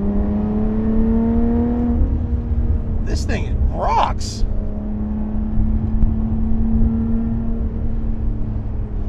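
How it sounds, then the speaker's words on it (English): A Lotus Evora 400's Toyota Camry-derived engine rumbles steadily up close as someone speaks briefly over its drone, with no strong rev climbing in pitch. "I cannot believe a Camry engine sounds this good."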